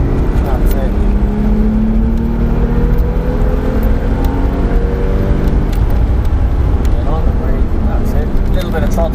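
Car at full throttle on the Mondello race track, a loud close engine drone that rises in pitch with faint shifts, while a person talks over it.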